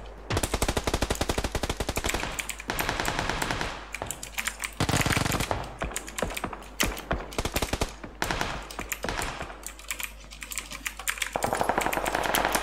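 Gunfire in the PUBG Lite video game, dense rapid automatic bursts and single shots crackling almost nonstop, loud and close, with brief pauses between volleys.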